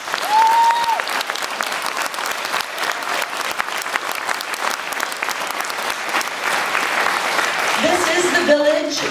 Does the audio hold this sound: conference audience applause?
yes